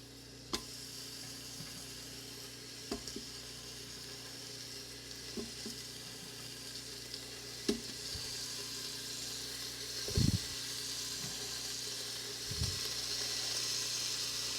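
Bacon frying on a gas-powered cooker during a power outage, a steady soft sizzle with scattered pops and occasional clinks from the pan, heard close with no talking.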